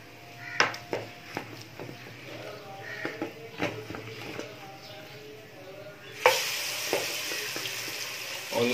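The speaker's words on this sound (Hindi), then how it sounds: "अब हम लोग अपनी ये मैरिनेट हुई हुई चिकन इस तेल में शामिल करेंगे" Marinated chicken hits hot oil for a white qorma, setting off a loud, steady sizzle after a stretch of scattered clinks and kitchen clatter.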